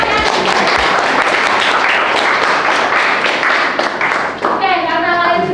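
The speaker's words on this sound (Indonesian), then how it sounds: "Oke, berikan tepuk tangan ya." Students in a classroom clap together in a dense, steady burst of applause lasting several seconds, loud and close, with faint voices mixed in before it thins out at the end.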